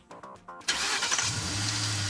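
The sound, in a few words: car engine starting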